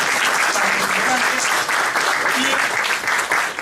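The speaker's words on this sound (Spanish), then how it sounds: "Un aplauso para nuestros" Conference audience applauding panelists after a sports journalism discussion, dense steady clapping filling the whole stretch with a voice speaking over it.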